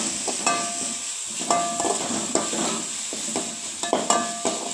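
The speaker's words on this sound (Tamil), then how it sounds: "வெங்காயம் போட்டு, கருவேப்பிலை லைட்டாக மல்லித்தலை போட்டு வதக்கிட்டுருக்கேன்" Onion, curry leaves, coriander leaves and ginger garlic paste sauté in hot oil: a steady sizzle runs throughout, with a ladle scraping the pan in regular strokes about once a second.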